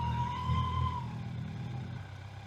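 A Vespa scooter's engine idling close by, a low steady hum with a faint whine that fades after a second, no talking.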